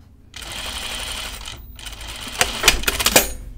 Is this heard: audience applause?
no